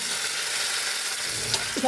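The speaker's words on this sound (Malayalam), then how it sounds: "അങ്ങനെ കടുക് കൂട്ടി കഴിഞ്ഞ് നമ്മൾ ഇച്ചിരി കറിവേപ്പിലിട്ട് കൊടുക്കുന്നുണ്ട്" Curry leaves fry in hot oil after mustard seeds, a steady bright sizzle, continuous and close, with a small clatter near the end.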